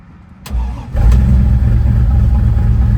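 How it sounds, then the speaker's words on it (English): A fuel-injected 392 V8 in a 1967 Ford Mustang Fastback cranks briefly and fires up quickly, then settles into a loud, steady, burbling idle close by. "Starts up nice and easy with the fuel injection."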